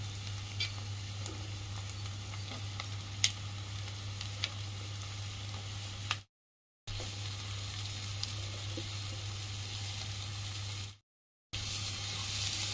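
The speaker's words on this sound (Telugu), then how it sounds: "ఇప్పుడు ఉల్లి పొరక వేసేసుకుందామండి" Eggs frying in oil with chopped spring onion added, a steady close sizzle that runs throughout, with a low hum underneath, occasional small clicks and two brief cuts to silence.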